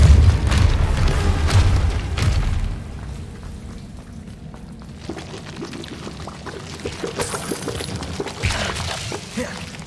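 Spell blasts in the Hogwarts Legacy video game: a loud, deep booming burst that rumbles and fades, followed by quieter crackling and scattered impact effects.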